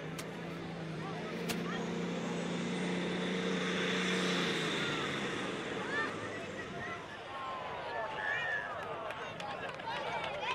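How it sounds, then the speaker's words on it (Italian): A pulling tractor hitched by chain to a weighted sled at a tractor pulling competition in Babano di Cavour roars loudly, its engine note climbing and then settling into a broad, sustained drone while a commentator talks over it. "Il trattore è stato agganciato alla slitta, catena in tiro, bandiera rossa lo tiene fermo e fra poco la bandiera verde lo fa partire."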